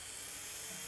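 A small electric motor in a restored Tri-ang Davy Crockett model locomotive runs with a continuous faint high whine and hiss for about a second.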